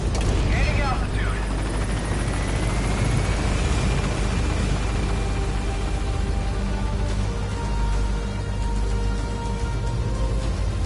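A helicopter lifts off in Metal Gear Solid 5: The Phantom Pain, its rotor and turbine roar filling the whole stretch at close, steady loudness, with a rising whine early on.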